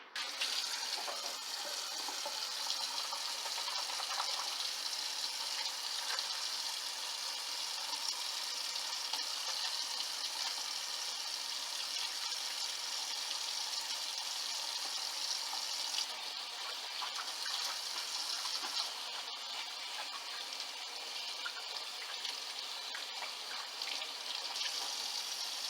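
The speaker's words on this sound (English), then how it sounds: "In the meantime, get my hands washed." Steady running tap water splashing into a kitchen sink for a long stretch, with brief shifts in the flow as hands are washed under the stream.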